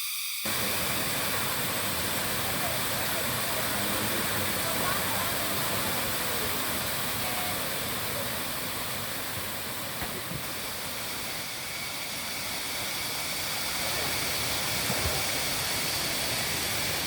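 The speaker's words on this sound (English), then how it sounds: "So this is actually the first waterfall." The first waterfall at Erawan National Park in Thailand gives off a broad, continuous hiss of falling water, steady and fairly loud from start to finish after a brief quiet opening.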